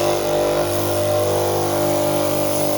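A rotary burr on a power tool grinds a knife, giving a steady, loud motor whine with a constant pitch that holds unbroken throughout.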